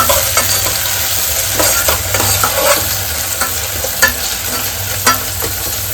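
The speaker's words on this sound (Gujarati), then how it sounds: "હવે આપણે એમાં ટમેટા એડ કરી દઈશું" Onions and tomatoes fry together in a pan on low gas, a steady close sizzle under repeated scraping stirs of a spoon, with no talking.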